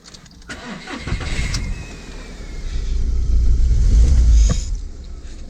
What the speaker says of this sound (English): I'll probably start the car anyway, make sure it's out of gear